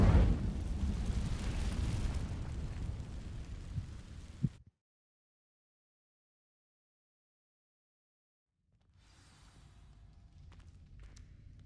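An Incendio fire spell sets dry vines alight in Hogwarts Legacy, a loud roaring rush of flame that ends in a sharp crackle before abrupt silence, then a low quiet ambience returns.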